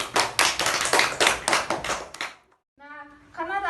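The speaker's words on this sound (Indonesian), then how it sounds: "Beri tepuk tangan dulu untuk teman-temannya." Classroom students applaud their classmates with a burst of dense hand clapping lasting about two and a half seconds, then a brief pause before a teacher's voice speaks.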